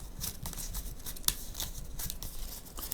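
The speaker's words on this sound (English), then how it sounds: "We got to shuffle this up." A deck of cards is riffled and shuffled close by, a quick, crisp fluttering rustle lasting a few seconds, with no talking.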